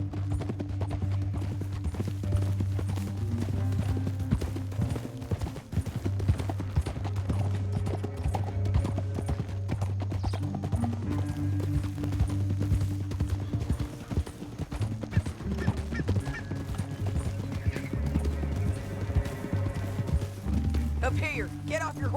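Horse hooves from the video game Red Dead Redemption 2 clip-clop steadily over a low droning music bed, with faint voices and an occasional whinny.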